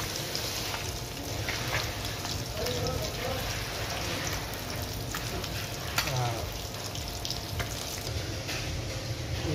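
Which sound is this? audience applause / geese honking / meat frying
meat frying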